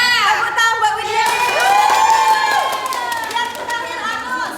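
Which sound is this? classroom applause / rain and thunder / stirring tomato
classroom applause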